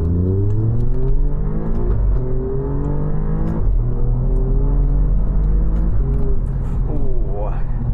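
An Alfa Romeo Giulia Quadrifoglio accelerates hard through its gears, its engine note climbing steadily in loud, close pulls with rising harmonics and a brief dip at a shift, heard from inside the cabin.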